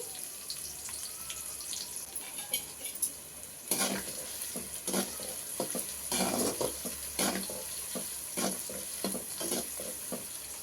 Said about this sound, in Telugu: ఈ ఉల్లిగడ్డలు గోల్డెన్ కలర్ వచ్చే వరకు ఇలాగే వేగాలండి